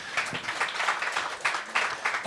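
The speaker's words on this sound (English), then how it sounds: "an enthusiastic round of applause for all 3 of our panelists" Conference audience applause for three panelists at a startup funding event, moderate, fairly faint clapping in uneven bursts over about two seconds.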